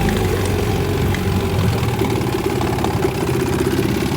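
A 1959 10 HP Evinrude outboard motor idles smoothly and quietly at close range, a steady low rumble with a faint rhythmic knock running unbroken, no voices over it.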